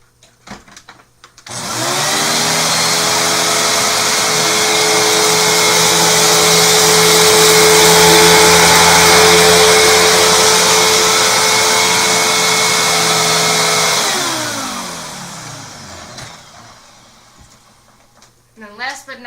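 A Hoover vacuum cleaner starts up, runs at a loud, steady whine for about twelve seconds, then winds down into quiet.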